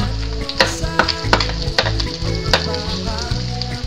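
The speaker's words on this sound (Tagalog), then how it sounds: "saka natin ilagay yung bawang" Garlic frying in a pan for spaghetti sauce, a close, loud, continuous sizzle with crackles and scraping stirs throughout, no talking.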